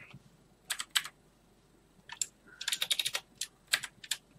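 Bursts of typing on a computer keyboard, close and clear, with short clusters of keystrokes separated by pauses, no talk.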